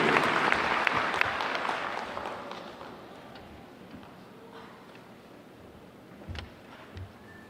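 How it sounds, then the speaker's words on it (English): Applause from a high school commencement crowd starts loud and dense, then thins and fades to scattered claps and room noise, with a few late isolated claps. "Please give these outstanding students a round of applause"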